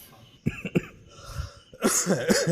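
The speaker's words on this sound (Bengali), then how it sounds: "কাশছি আমি" Several sharp coughs close to the microphone, a few spaced bursts followed by a longer, rougher stretch of coughing and throat clearing.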